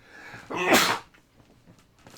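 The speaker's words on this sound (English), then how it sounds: "Excuse me, I'm gonna sneeze." A single sharp sneeze bursts out close by, followed by soft breathing and quiet rustling.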